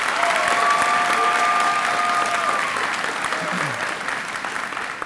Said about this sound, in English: Once again, another big round of applause for our exceptional cadets today.